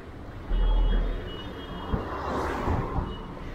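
Busy city street traffic in Bujumbura, Burundi, heard from a bicycle weaving between vehicles: a steady wash of engines with passing trucks or buses, a low rumble and brief horn-like tones, no talk.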